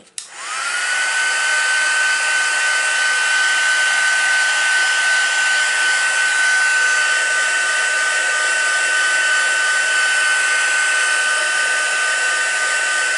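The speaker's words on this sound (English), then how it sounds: "I'm just going to heat set this one too." A heat tool blows steadily to set embossing powder on a handmade card, a loud continuous whooshing hiss with a faint high whine that starts abruptly and runs unbroken, with no talking.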